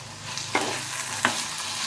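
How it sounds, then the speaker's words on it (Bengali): Snake gourd and poppy seed paste stirred in a pan, a low sizzle under two quick scraping strokes of a spatula. "এবার একটু নাড়তে থাকবো এটা"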